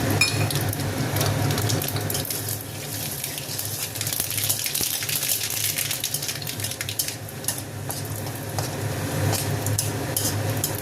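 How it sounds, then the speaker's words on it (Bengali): Mustard seeds and dried chilli temper in hot oil that has just fried prawns, a continuous close sizzle and spatter with scattered tiny pops running evenly throughout. "চিংড়ি মাছ ভাজা তেলের মধ্যে সর্ষে আর শুকনো লঙ্কাটা ফোড়ন দিয়ে দেবো।"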